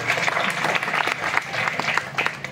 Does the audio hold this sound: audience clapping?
yes